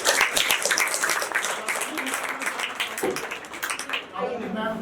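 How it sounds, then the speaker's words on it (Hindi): An audience at a stage play gives a round of enthusiastic clapping, dense at first and then thinning out, while voices talk over and after it. "जोरदार तालियां हो जाए"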